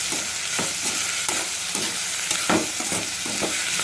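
Onions are sautéed in a pan for mushroom kulambu over a medium flame, with a steady sizzle under repeated, rhythmic scraping strokes of a spatula, close and clear with no voices.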